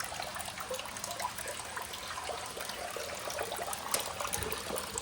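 Water trickling out of the fill point of a Weekend Warrior vapor honing machine as it tops off, a soft, steady splashing flow with small drips, fairly quiet and without voices.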